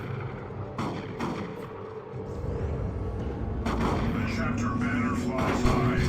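A Ravener Alpha fires a volley in the Dawn of War 2 video game, with a series of gunfire bursts and booms that grow denser in the second half, under a commentator's voice.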